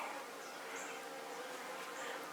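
A queen bee sits inside a hive built into a floor, giving a steady, soft, continuous insect buzz with faint higher whines drifting above it and no talking.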